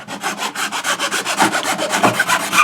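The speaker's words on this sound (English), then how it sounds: "you want to switch to a smaller sanding cone like this on your Dremel" A small Dremel sanding cone grinds away at the headlights of a studio-scale model police car, a close, loud, rhythmic rasping with steady pulses repeating several times a second and no talk.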